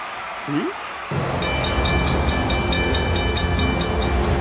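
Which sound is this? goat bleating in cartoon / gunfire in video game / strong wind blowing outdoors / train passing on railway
train passing on railway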